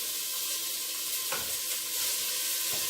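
Floured beef pieces sizzle in a hot pot for an Irish beef stew, a steady close frying hiss with light stirring clatter and a couple of soft knocks, no voices.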